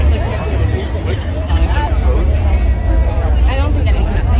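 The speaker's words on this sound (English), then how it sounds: "here's a clip of the crowd yesterday before her speech at the Ellipse" A large outdoor political rally crowd gathered at the Ellipse ahead of Kamala Harris's speech, a dense, steady hubbub of many voices murmuring and chattering together, loud and continuous without pause.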